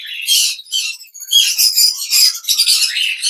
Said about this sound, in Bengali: এই হলো আজকে আমাদের পাখির কালেকশন